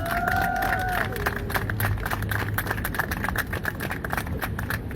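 A crowd applauds and cheers outdoors at Car Free Earth Day 2025 in Times Square, New York City, with scattered claps and whoops over a busy street-like background and a brief whistle-like tone near the start.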